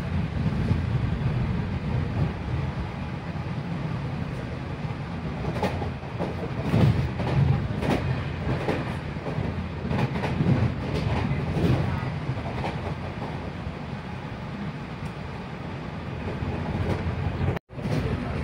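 A Hungarian InterCity push-pull train rolls along steadily with a loud continuous rumble and rail rattle heard from on board, briefly cutting out near the end.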